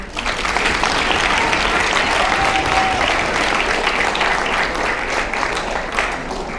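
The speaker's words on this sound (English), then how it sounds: "please round of applause to them" Steady, full audience applause fills a hall at a conference closing ceremony, a continuous wash of many hands clapping at even loudness throughout, with no talking over it.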